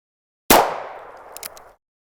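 A single sharp CCI Stinger .22 round fired from a short-barrel gun, loud and close, with a decaying ring and a couple of faint echo taps after it.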